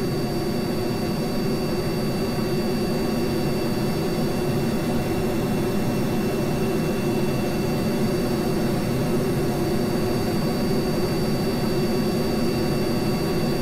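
Ramjet aircraft engines in Kerbal Space Program roar in a constant, loud jet drone with a deep rumbling low end, unbroken and without speech throughout.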